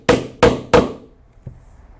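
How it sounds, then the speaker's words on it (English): A rivet setter is struck three times in quick, even succession to set a rivet in leather for biker saddlebags, giving loud, close hammer blows followed by a single fainter tap. "we will put the rivet cap on and then set the rivet with the rivet setter"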